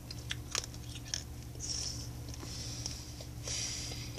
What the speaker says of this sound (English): Alright, now we gotta chew them up.